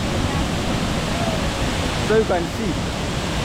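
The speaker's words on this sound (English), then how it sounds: "The water falls with a lot of wind." A waterfall roars as a broad, constant rush of water with strong wind blowing in cold weather, loud and close throughout, while a voice speaks briefly over it.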